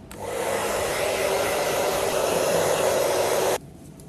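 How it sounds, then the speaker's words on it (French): A hair dryer with its nozzle removed blows steadily on medium heat and medium fan while drying curly hair, a loud, even broadband rush close by that cuts off abruptly near the end. "vous allez utiliser le sèche-cheveux, vous retirez le bec et vous soufflez chaleur moyenne et ventilation moyenne"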